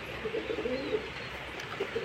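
Pigeons coo repeatedly while feeding, including a full-grown adult bird, with soft low throaty calls recurring over steady background noise.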